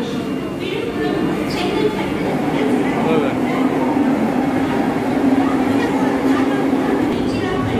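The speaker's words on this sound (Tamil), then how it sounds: "வண்டி போகுது." A passenger train on the Chennai to Nagercoil route rumbles past at a station in Tamil Nadu, with a steady, loud, continuous roar of wheels and carriages throughout and people talking faintly nearby.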